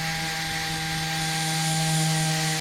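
An abrasive sanding tool grinds steadily against old layered paint on a 1963 Loadstar truck, feathering the edges, with a constant close whine and hum and no talk.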